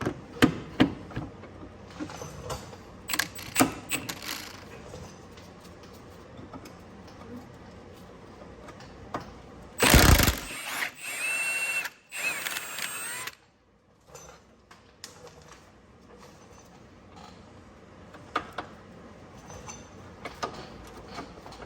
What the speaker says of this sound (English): we can go ahead and remove the 19mm bolt in the back, so that way the plate will be more agile